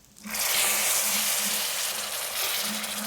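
Hot liquid poured gradually into moong dal halwa in a pan, setting off a sudden, loud, steady hiss and sizzle that starts after a brief quiet moment and holds close and even to the end, with no talking.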